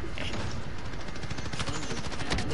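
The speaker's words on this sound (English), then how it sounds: "shooting the fuck out the wall" Video game gunfire hammering a wall in a dense, continuous burst of rapid shots, loud and close throughout with no pauses.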